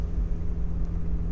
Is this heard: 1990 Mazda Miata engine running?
yes